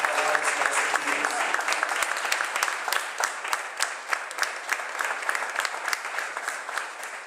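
A church congregation in Caleta Olivia breaks into steady, dense applause for a visiting apostle, the clapping loud and continuous throughout with many sharp individual claps standing out.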